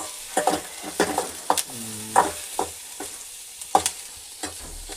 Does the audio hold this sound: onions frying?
yes